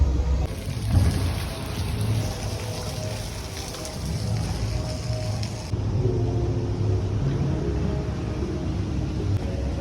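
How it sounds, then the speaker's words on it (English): Thunderstorm with heavy rain at an Italian theme park and water park, a dense steady hiss of rainfall over a deep continuous rumble, loud and enveloping, with no talk. "finish it off with a nice thunderstorm, as you can hear."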